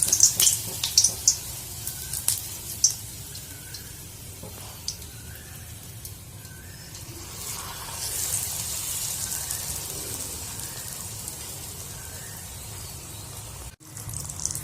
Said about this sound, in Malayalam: സമോസ ഓരോന്നായിട്ട് എണ്ണയിലേക്ക് ഇടാം.